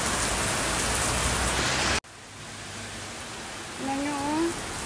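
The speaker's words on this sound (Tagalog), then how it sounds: "Lakas ng ulan." Heavy rain roars loudly, then cuts abruptly to a quieter steady patter; a voice briefly speaks near the end over the rainfall.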